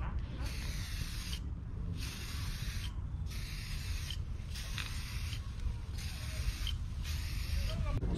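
An aerosol spray can applies Daytona matte clear acrylic urethane paint over matte and gloss black in several evenly spaced hissing bursts, each about a second long, separated by brief pauses, quiet and close.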